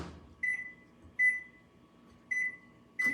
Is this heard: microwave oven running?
yes